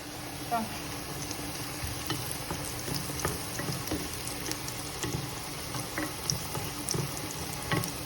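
Carrots sautéing gently in a pan while being stirred, a soft continuous sizzle with occasional scraping clicks, fairly quiet and steady with no talking.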